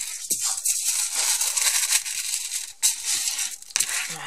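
Sheet of aluminium foil folded several times and crushed into a thicker pad, crisp crinkling and crackling close by with sharp rustles and brief pauses, no talking.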